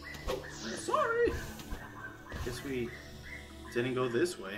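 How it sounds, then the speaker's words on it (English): A dog in the background whimpers and yips in short, high, bending cries between stretches of someone talking, the sounds coming in a few separate bursts. "Sorry if you guys can hear a dog in the background."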